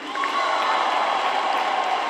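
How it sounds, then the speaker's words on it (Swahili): A church congregation claps together during a thanksgiving Mass at a Catholic parish: a steady, dense wash of applause that holds at an even level throughout, with no one speaking over it. "Makofi kwa Mungu."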